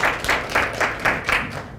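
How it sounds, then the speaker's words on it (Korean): Audience applause at a Busan cosmetics industry association general meeting and export seminar: a steady wash of many hands clapping in a hall, with soft rhythmic pulses, no voices over it. "감사의 박수 좀 부탁드립니다"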